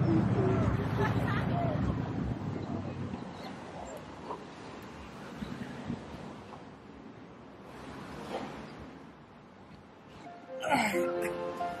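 Strong wind blows outdoors in Noumea, with passing cars, loud at the start and easing, gusting again near the end.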